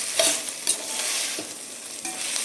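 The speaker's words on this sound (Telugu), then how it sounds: "మాడిపోకుండా ఫ్రై చేసుకొని రిమైనింగ్ వెజ్జెస్ కూడా వేసుకొని ఫ్రై చేసుకోవాలి." Vegetables fry in hot oil for paneer biryani with a steady, close sizzle, broken by a few stirring scrapes in the pan and no voices.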